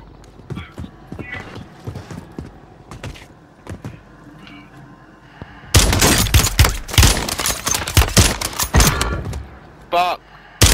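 Loud bursts of gunfire crack in Call of Duty Warzone, where a KAR98 sniper rifle is in use: quiet clicks and movement at first, then a dense close volley of shots, with voices talking over the action.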